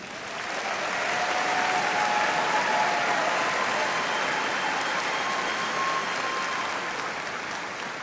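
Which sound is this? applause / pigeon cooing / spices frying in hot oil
applause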